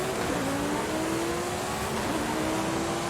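A Lamborghini Sesto Elemento in Forza Horizon 5 drives through a jungle, its engine holding a steady, loud drone with rising pitch that dips at a gear shift and then climbs again.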